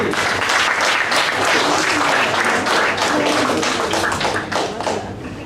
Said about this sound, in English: A big round of applause for Group A and Group B.